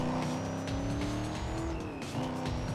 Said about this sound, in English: Oh wow, that car engine.